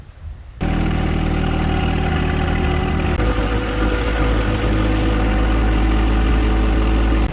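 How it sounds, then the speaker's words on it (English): A tractor fitted with pallet forks starts up and idles loudly and close by, a steady low rumbling engine drone with a slight shift partway through; no one speaks. "So isn't it nice we've got a tractor with a pair of forks?"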